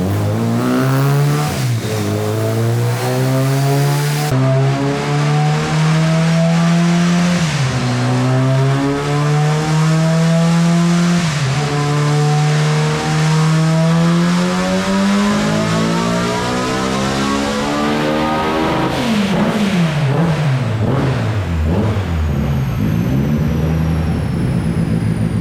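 A car engine revs hard in repeated rising and falling sweeps, loud and close, climbing into high-pitched screams and dropping back between pulls.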